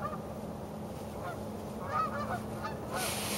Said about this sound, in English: as the geese fly.